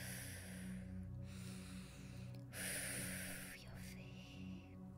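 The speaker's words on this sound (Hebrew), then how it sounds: "וניקח עוד נשימה אחת להתחדשות" A deep breath taken during a guided chakra-balancing meditation, heard as two or three long, airy inhale and exhale swells over soft ambient music, close and gentle, with no talking.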